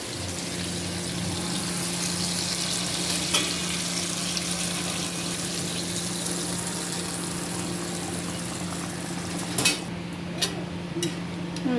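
Hilsa fish with poppy seeds simmers in a pan after water is added, a steady soft bubbling sizzle with a low hum beneath and a few light clinks near the end.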